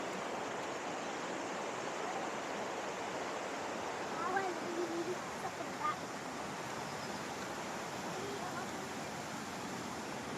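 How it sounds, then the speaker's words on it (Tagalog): Water flows steadily at a natural spring with a pool, a constant soft rushing wash throughout, with a brief faint voice in the middle. "Ito na yung spring."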